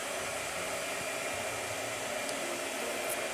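A blow dryer used in painting blows a continuous, even rush of broadband air noise, close and steady throughout with no pauses and no voices.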